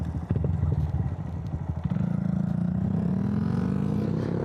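Honda Grom motorcycle ridden outdoors on a fine day, its small single-cylinder engine droning steadily close to the mic with a rising pitch after a few clattery bumps early on, no talk.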